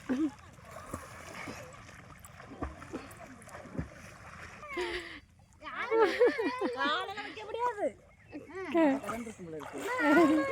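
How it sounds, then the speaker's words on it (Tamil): People swimming and splashing in a river, with irregular watery splashes and churning, under lively overlapping voices and shouts that grow louder in the second half. "நீச்சல் செமையாக அடிக்கிறாங்க"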